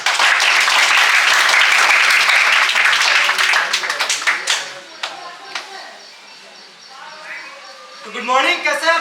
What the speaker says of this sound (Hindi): आप लोग तालियों से हमारे निर्देशक एवं सह निर्देशक का स्वागत करें।